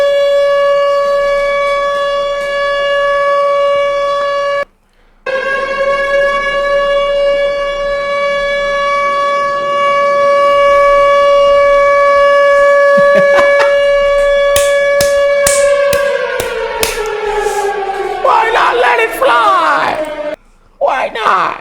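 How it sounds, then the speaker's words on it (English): Sound effect of a steady wailing siren tone that holds, briefly cuts out, then winds downward while loud voices yell and whoop over it. "Where my sirens at?"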